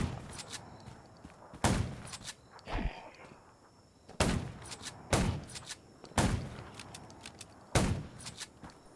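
Gunfire aimed at zombies at night in the Undawn mobile game: around six sharp, loud shots in irregular bursts, mixed with thuds and footsteps between them.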